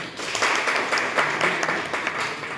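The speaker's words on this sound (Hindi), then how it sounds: "एक बार जोरदार ताली बननी चाहिए" A crowd at a retirement function applauds, a dense patter of many hands clapping at moderate distance, swelling and easing slightly over a couple of seconds.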